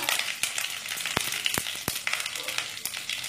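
A dry red chilli sizzles in hot white oil with a bay leaf tempering, a continuous frying hiss broken by several sharp clicks and taps of a spoon against the pan.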